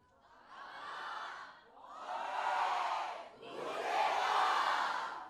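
A college crowd at a film promotion shouts a chant in three long swells, each a loud, sustained roar of many young voices rising and fading with brief gaps between.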